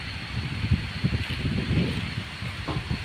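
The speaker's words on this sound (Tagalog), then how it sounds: "tignan mo ang lakas ng hangin dyan" Gusty wind on a farm rumbles and buffets up close, with repeated low thumps over a steady broadband hiss.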